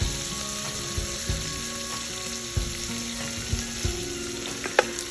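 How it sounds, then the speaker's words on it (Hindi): Chopped garlic sautés in butter and oil for a stuffed jumbo pasta dish with chicken and mushroom sauce, giving a steady close sizzle and frying hiss with a few soft clicks of stirring, no voices. "1 टीस्पून मैंने चॉप गार्लिक डाल दिया है इसमें। इसको हल्का सा सॉटे करेंगे।"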